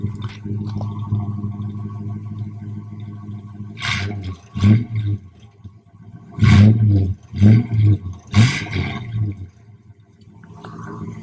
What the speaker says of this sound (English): Listen to this exhaust, guys.